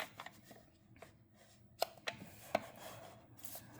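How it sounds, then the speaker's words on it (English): Card stock for card making being cut, heard as a few sharp, crisp snips or clicks spaced apart over a quiet, faintly rustling background, with no talking. "I'm going to flip it and cut the other side off as well"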